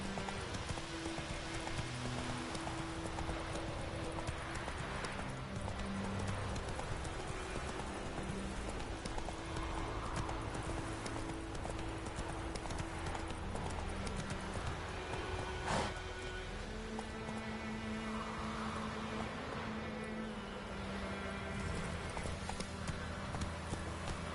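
Horse galloping in The Witcher 3, a steady rapid clip-clop of hooves running through the whole stretch, close and prominent over a dense background of in-game ambience.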